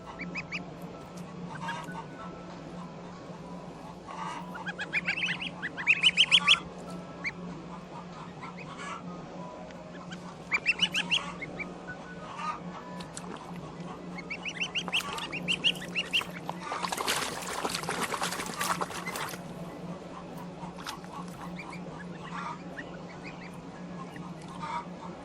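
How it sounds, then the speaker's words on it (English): Geese honking excitedly around an automatic waterer in a chicken pen, bursts of loud nasal calls coming in clusters over a steady low hum, with a noisy splashing flurry near the end. "Geese love water, and here goes. They're so excited."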